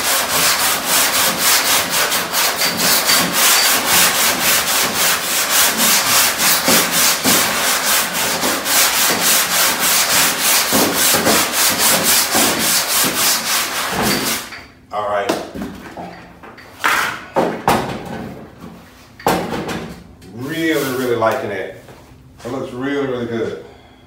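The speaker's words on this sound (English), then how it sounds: "I'm gonna take a really, really long block, and I'm gonna go ahead and go by hand and go over it," A very long sanding block is rubbed by hand over the body panel of a 1964 Chevy Impala SS, making loud, continuous rhythmic rasping strokes up close, followed by someone speaking.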